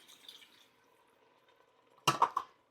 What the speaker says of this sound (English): Then I'm going to add 1 cup of water